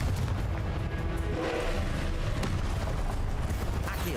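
Confringo, an explosive spell in the Hogwarts Legacy video game, goes off as a dense, continuous rumble of booms and bursts layered over steady game noise.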